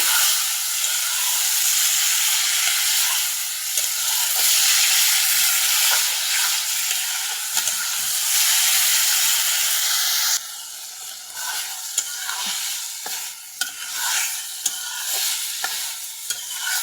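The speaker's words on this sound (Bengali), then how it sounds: "ফুলকপিগুলো দিয়ে দিচ্ছি, এখন ভালো করে তরকারিটা কষাই নেব।" Cauliflower pieces fry with spice paste in a pan for a curry while being stirred steadily, a continuous loud sizzle with frequent scraping strokes.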